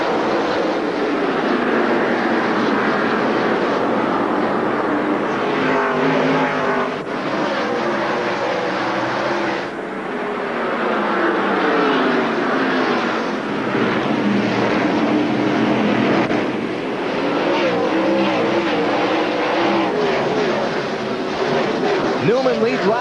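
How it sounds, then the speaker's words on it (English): NASCAR Winston Cup stock cars racing at Martinsville short track in 2002, a dense continuous engine roar with rising and falling pitch as cars pass, with commentary talking over it throughout. "Green flag racing at Martinsville."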